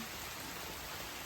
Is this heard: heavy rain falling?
yes